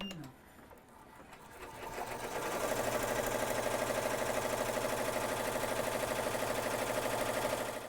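Embroidery machine stitching a satin stitch patch, starting up after a moment of quiet and settling into a steady, fast mechanical whir with rapid repetitive needle clatter, close and continuous.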